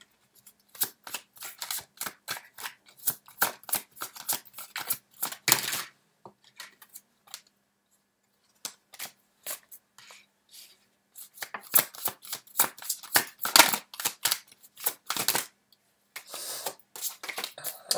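Tarot cards being shuffled and drawn, heard as quick, crisp riffling flicks in close-up, grouped in bursts separated by quiet gaps.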